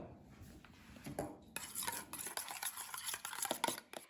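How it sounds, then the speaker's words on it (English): Slow-cooked ribs sauce being stirred in a pot right after white vinegar goes in, with close scraping and clinking of the spoon against the pot that grows busier over a few seconds. "And then we give it a stir."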